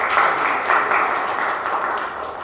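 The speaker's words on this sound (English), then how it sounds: "So a huge round of applause to him." Applause from an audience at a business session on expanding into the US market, a steady moderate wash of clapping that holds evenly throughout without voices.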